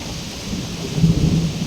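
Thunder rumbles low and close during a rain storm, a brief swelling roll over a steady wash of falling rain outdoors.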